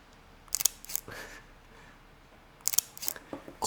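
A Leica M10 camera's shutter fires in sharp, close mechanical clacks, two quick releases early and another pair near the end, crisp against a quiet room.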